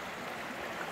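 Creek water flows steadily through a canyon, a continuous close rushing and gurgling stream with no voices.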